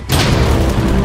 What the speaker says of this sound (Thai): โอ้โหระเบิด